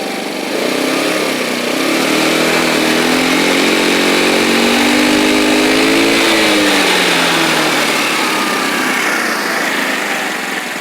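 X-Pro X20 scooter engine running at a slightly high idle, a steady continuous buzzing drone that holds loud and close, with a brief wavering rise in pitch midway.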